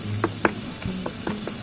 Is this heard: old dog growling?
no